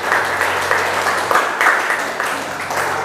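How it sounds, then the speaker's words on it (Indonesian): A church congregation at GBI Sumpyuh, Banyumas, breaks into steady, dense applause mixed with cheering, filling a hall evenly for several seconds. "Berikan sorak-sorai."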